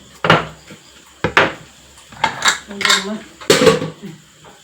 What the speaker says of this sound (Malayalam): ഈ പാത്രം കഴുകാനുണ്ട്.